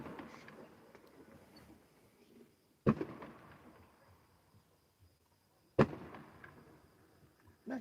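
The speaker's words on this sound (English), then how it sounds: "Flashbang." Two sharp, distant flashbang blasts go off in an open field about three seconds apart, each followed by a short echoing tail over faint background hiss.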